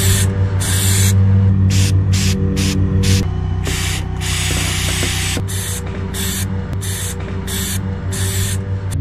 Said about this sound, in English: now we're going to use this rubber spray sealant and use this to get all the weird cracks